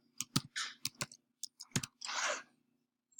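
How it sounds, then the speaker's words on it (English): A computer keyboard is typed on in a short, close burst: about eight separate crisp key clicks at an uneven pace, with a brief rustling smear near the end and quiet between strokes. "So I'm going to type in MathDisk"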